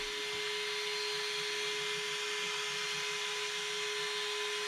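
A steady fan motor whirs continuously with a constant pitch and a soft mechanical rumble beneath, close and unchanging, with no voices.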